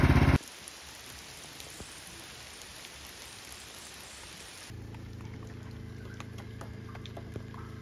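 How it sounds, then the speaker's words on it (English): Soft, steady hiss of light rain falling on an Alaska homestead, faint and continuous, with a low background rumble joining partway through. "Tiny little raindrops."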